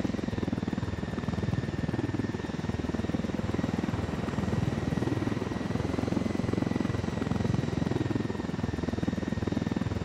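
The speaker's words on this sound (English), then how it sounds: "Don't mind me, helicopter coming through, you know." A helicopter in the video game Ghost Recon: Wildlands drones steadily with a rapid, chopping rotor pulse and a low engine rumble, loud and continuous throughout, with no speech.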